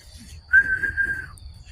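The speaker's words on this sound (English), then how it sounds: "There's a guy whistling in the background." A man whistles a single sustained tone for about a second in the background of an outdoor campsite, faint under low rumbling ambient noise.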